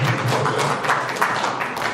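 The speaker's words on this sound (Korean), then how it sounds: "박수 한번 부탁드리겠습니다." Applause from an audience at a county residents' debate forum fills the room as a dense, continuous patter of many hands, moderately loud, with some speech mixed in.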